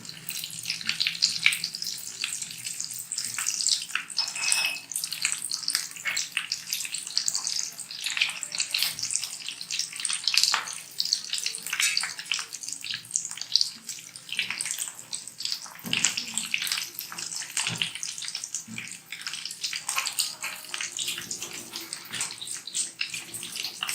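Vegetable koftas deep-frying in oil, a dense continuous hissing sizzle with bubbling that holds steady and close for the whole stretch.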